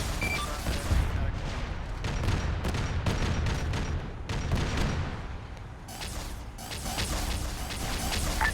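Whirlwind artillery fires in ARMA 3 as a rapid barrage of heavy booming blasts and crashes, dense and loud with little pause between rounds.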